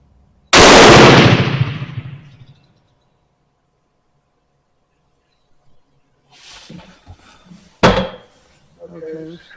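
A single loud, close rifle shot from a Mauser Turkish M38 rings out with a long decaying echo, followed later by people talking and another sharp clack.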